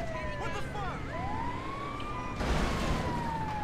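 An ambulance siren in the video game GTA V wails and yelps with rapidly sweeping pitch over low road rumble, rising in loudness near the end.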